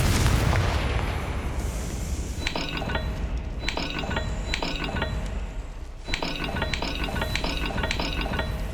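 Repeated magical blasts of the Confringo fire spell in Hogwarts Legacy, a series of sharp crackling bursts with ringing metallic tails, several in quick succession over a steady low rumble, with no talking.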